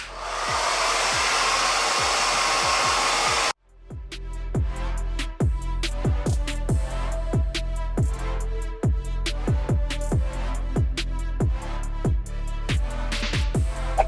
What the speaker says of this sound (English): I'm just gonna go ahead and blow dry